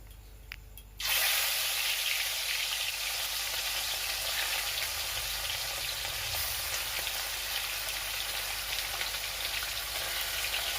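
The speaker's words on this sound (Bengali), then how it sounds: "এবার সেই মাছগুলো দিয়ে দিচ্ছি দিয়ে আবার মাছগুলোকে ভেজে নেবো" Small mourola fish sizzle steadily in hot oil in a pan. The loud, continuous frying starts abruptly after a short quiet moment and keeps a dense crackle throughout, with no talking.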